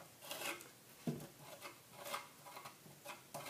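Texture medium scraped with the back of an offset spatula across a stencil on a dresser, a soft, faint rasping rub repeated in short uneven strokes.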